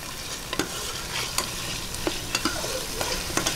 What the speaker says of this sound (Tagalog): Lagay na po natin ang chicken. Ayan, gisa-gisa lang po.